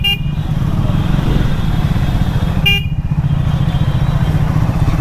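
A Triumph Speed 400 motorcycle rides through traffic with its engine droning steadily, and two short beeps of its horn sound near the start and again near the middle, up close and loud over the engine.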